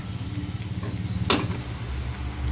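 Pepper, onion and ginger sizzle in a hot pan for a fish escabeche, a loud close crackle with a brief scrape of stirring partway through.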